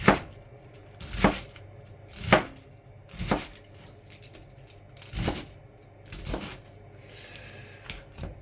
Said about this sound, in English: you're going to actually just want to cut the cabbage like so